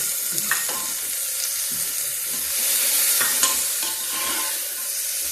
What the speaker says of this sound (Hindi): इसको मैंने बारीक बारीक चॉप कर लिया है। ये भी डाल देंगे।